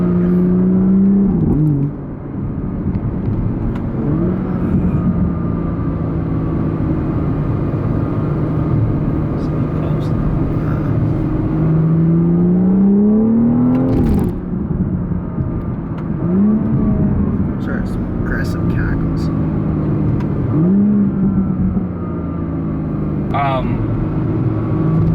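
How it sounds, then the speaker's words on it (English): A BMW 440i fitted with an M Performance exhaust drives at a steady, loud engine drone, with its pitch rising and dropping through several gear changes and brief revs, all close and continuous with no talk. "Now obviously he has the M Performance exhaust, so it kind of boosts up the driving sensation a little bit."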